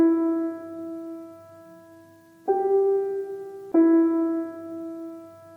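Three sustained piano notes, E, then G, then E, each struck clearly in an even rhythm, the first held about twice as long as the others, close and clean with no talking.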